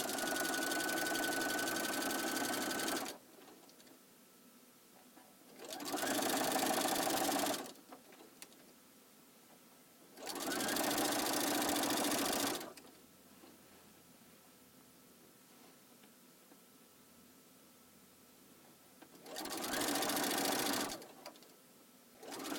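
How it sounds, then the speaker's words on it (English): A sewing machine stitches binding along the side of a quilt in four separate runs of steady rapid whirring, each a few seconds long, with quiet pauses between them. "we're going to continue down the side of this, applying this binding to the side of the quilt"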